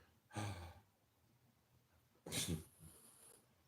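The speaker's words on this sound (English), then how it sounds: "I got some dogs in the background." Two short, breathy bursts from dogs, probably snorts or sneezes, sound close and fairly quiet. A long pause of near silence separates them.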